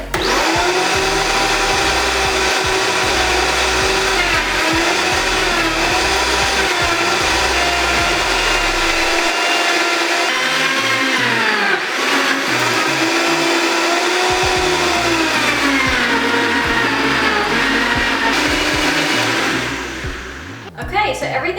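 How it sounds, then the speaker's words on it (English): A Vitamix blender runs a green smoothie for about twenty seconds, a loud, steady motor whine whose pitch rises and dips as a tamper pushes the ingredients down, then it winds down at the end. "we just take this top hat off of your Vitamix, and we're going to start it up again, but we'll use the tamper to push everything down"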